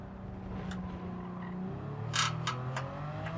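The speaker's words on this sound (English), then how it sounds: "really stomping on the brakes" Ferrari F50 braking hard into a corner at Monza in Gran Turismo, a steady engine drone dropping in pitch as bursts of tire squeal cut through near the end.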